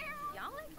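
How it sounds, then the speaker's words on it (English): A cat in a video game meows once, a short rising-then-falling cry heard clearly under a voice. "This fucking cat."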